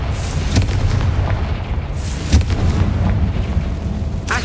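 A Confringo blasting spell explodes in Hogwarts Legacy, giving deep booming bursts that recur a few times over a steady rumbling game background, loud and close.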